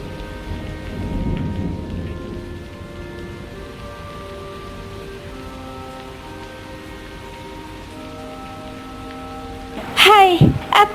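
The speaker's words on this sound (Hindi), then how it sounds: "ये बारिश तो लगातार हुए जा रही है।" Steady heavy rain hisses through a storm around a mud house, with a low rumble of thunder early on and a loud, sharp crack of thunder near the end.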